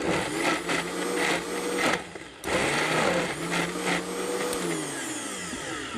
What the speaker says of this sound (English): it's a little bit harder for a Vitamix to make the smaller amounts, simply because this is a very powerful blender